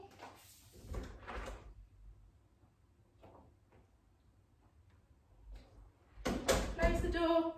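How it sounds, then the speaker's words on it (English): A house door is opened and closed during a dog training session, giving a few soft thumps and clicks with quiet gaps between them, then a louder, busier stretch of handling noise near the end. "so I'm gonna open the door"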